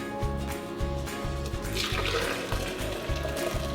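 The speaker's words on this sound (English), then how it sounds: "My water is already boiling, so I'm going to go ahead and pour it in." Boiling water is poured into a cup for keto low-carb coffee, a steady close liquid stream with a low rhythmic gurgle running throughout at moderate level, without speech.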